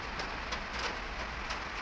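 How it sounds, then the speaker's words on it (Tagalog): Light rain falls steadily during a typhoon in Pasig, a soft continuous hiss of drops on surfaces with no talking. "So naulan na, konti pa lang. Mahina pa lang yung ulan."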